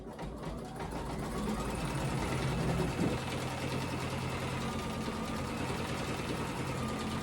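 A sewing machine stitches a long black satin stitch on a door hanger, a fast, steady mechanical whir with a dense needle rhythm, close up, one brief knock midway, and no talking.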